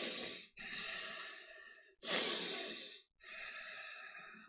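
A person imitates loud breathing in a float tank, with three long, heavy breaths, each a drawn-out airy rush separated by brief pauses, close and alone.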